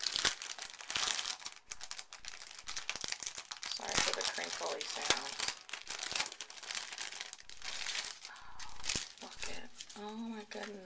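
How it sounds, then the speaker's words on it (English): Vintage-style Christmas wrapping paper is torn and crumpled off a stocking gift, a near, continuous run of crinkling and ripping bursts, with someone talking over it. "this one has some pretty, pretty vintage looking Christmas paper"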